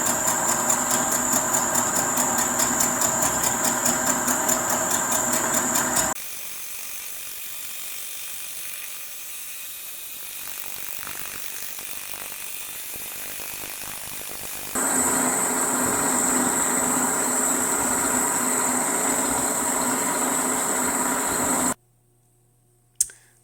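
Milling machine taking a very light cut of about three thousandths across an Allis Chalmers WD45 manifold face, a steady mechanical whir with a high tonal whine that drops away for a quieter stretch, returns, then cuts off abruptly.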